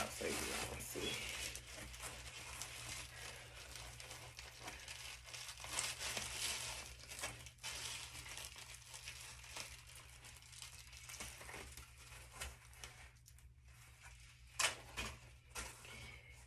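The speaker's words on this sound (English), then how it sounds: "Take this paper out so you can see." Paper crinkles and rustles as it is pulled from a 13x6 deep loose wave wig package, close and intermittent, with soft handling noises over low background hum.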